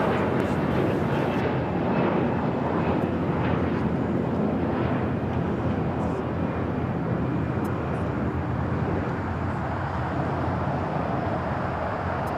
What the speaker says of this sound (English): Our next takeoff is United Airlines Flight 1260 heading to Denver. It's a 22-year-old 757-300.